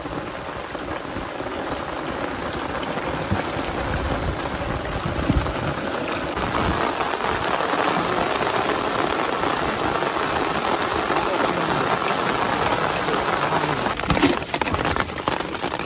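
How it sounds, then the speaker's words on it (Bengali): Heavy rain pouring down steadily, a dense, loud, continuous hiss and patter of drops on surfaces, with a few sharper taps near the end. "ভারী মাত্রায় বৃষ্টি হচ্ছে, একদম প্রচুর বৃষ্টি"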